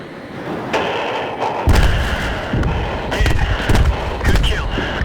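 Bombs and gunfire in the Battlefield 3 video game, with several loud booming impacts and bursts of shots over a continuous rumbling battle din, faint radio voices in the background.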